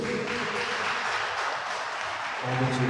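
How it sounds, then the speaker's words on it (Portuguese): A church congregation claps steadily during a worship service, a broad, even wash of applause that continues alone before a low tone rises at the end. "Vamos aplaudir o Senhor Jesus."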